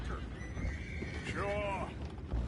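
Horses in the Red Dead Redemption 2 video game give a single clear whinny, with faint hoof clip-clop and soft background game sounds, all heard quietly at a distance.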